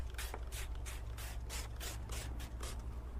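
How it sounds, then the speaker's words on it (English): Windex glass cleaner is sprayed on a car's back window during wet application of an American flag decal, with about nine quick hissing spray bursts in a steady rhythm over a low rumble. "So spray some more Windex on there"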